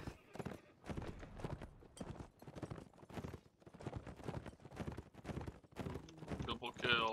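Cavalry hooves thud in a video game line battle, rapid clip-clop from many horses mixed with game clatter, under near-constant talk from players.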